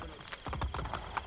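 A horse's hooves clip-clop through narrow alleyways in Assassin's Creed Brotherhood, a quick, steady run of crisp hoof strikes close by.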